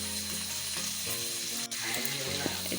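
Meat and potatoes sizzle and fry steadily in a pan, with a continuous close crackle, occasional stirring scrapes and a brief dip partway through.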